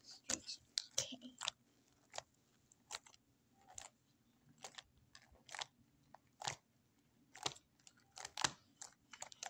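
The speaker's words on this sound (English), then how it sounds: "The loud noises are coming from my slime" Homemade slime being squished and stretched in an ASMR session, giving irregular wet crackling pops and snaps in quick bursts, close and fairly quiet, with no talking.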